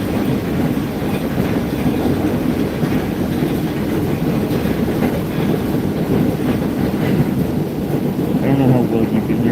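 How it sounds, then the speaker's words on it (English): A Staten Island Railway train passes in the opposite direction, a loud, steady roar of wheels and rail clatter that fills the whole stretch without letup, heard close by from another moving train. "there's the train going the other way"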